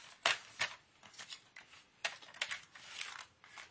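A paper trimmer slices scrapbook paper with several short, crisp rasping strokes close by, separated by quiet handling pauses.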